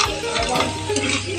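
Pork samgyupsal sizzles and spatters loudly on a hot grill as the meat is stirred and turned. The frying is close and continuous, with scraping stir sounds over the steady crackle.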